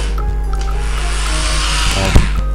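A Bosch three-function 220V handheld electric drill runs continuously with a steady motor whine and hum, ending in a brief sharp knock near the end, with no voices.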